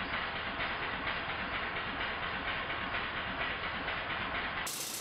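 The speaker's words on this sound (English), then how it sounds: "now the burners are both turned off, you can hear the engine's beats very clearly" Model steam engine on a test plant running on residual boiler heat with the burners off, giving a steady, rapid rhythm of exhaust beats and hiss, close and continuous.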